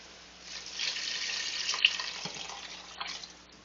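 Roughly five ounces of water poured into a soup pot of stock and cooked beans, a bright trickling splash that builds after a quiet start, holds steady for a few seconds with small gurgles, then thins near the end.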